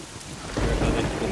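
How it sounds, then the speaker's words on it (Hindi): Heavy rain pours down in a film scene with a deep rumble of thunder rising halfway through, loud and continuous with no voices. "एक तो बारिश भी हो रही है।"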